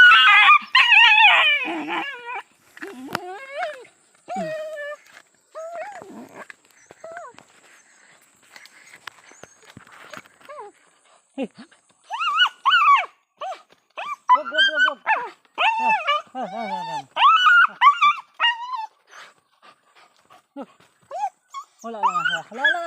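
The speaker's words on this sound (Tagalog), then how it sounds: "Kawawa ng aso." A dog whimpers and howls in bursts, with people talking and calling out around it at close range.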